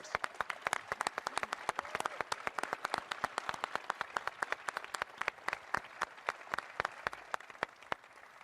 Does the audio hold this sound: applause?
yes